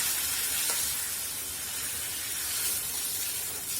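Badi lentil dumplings dropped into fried tomato masala in a pan give a steady, bright hissing sizzle that carries on evenly at close range.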